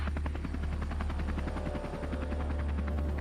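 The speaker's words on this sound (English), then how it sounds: "That's the helicopter." A helicopter's rotor thumps in a fast, steady rhythm over a low engine drone, loud and continuous throughout.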